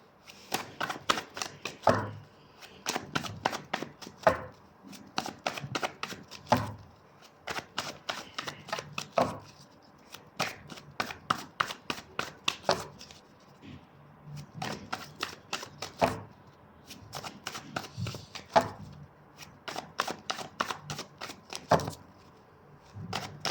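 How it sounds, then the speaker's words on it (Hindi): Tarot cards being shuffled by hand in repeated bursts of rapid riffling flutters, separated by short pauses, close and crisp with no talking. "और एक बार शफल दूंगी"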